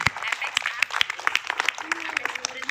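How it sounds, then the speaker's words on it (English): Audience applause at a Republic Day event, a brief burst of scattered hand clapping from the crowd with a voice calling out over it. "Please put your hands together all at once."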